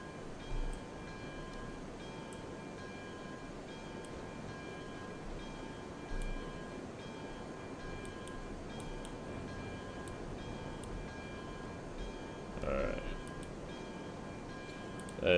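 A locomotive in the RailRoads Online video game runs through a rail yard with a steady low rumble and chug, plus faint periodic clicks and a brief horn-like tone near the end.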